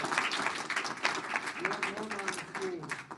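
A luncheon audience at a chamber of commerce membership event claps for chamber ambassadors, giving a moderate, steady round of applause with a voice talking over it.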